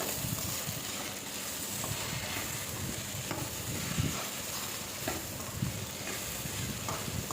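Okra and peanut fry is stirred in a pan after salt is added, giving a soft, continuous sizzle with scraping stir strokes throughout.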